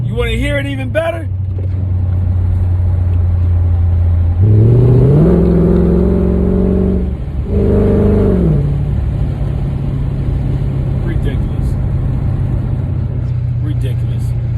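Supercharged widebody Mercedes CL55 with long tube headers, no catalytic converters and a changed supercharger pulley. A steady, loud idle drone swells into two strong revs, then drops back to idle, with a brief voice near the start.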